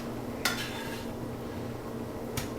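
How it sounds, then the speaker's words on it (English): Meat spooned over laid-out nacho chips, with two sharp scraping clinks of a spoon against the pan, one near the start and another near the end, over a low steady background hum. "I'm just going to spoon on some of the meat over the top"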